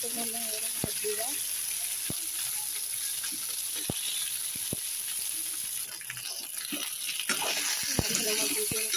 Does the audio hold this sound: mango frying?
yes